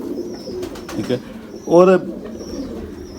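A male highflyer pigeon gives a short cooing call near the middle, close and fairly clear, among low background noise, with someone speaking briefly before it.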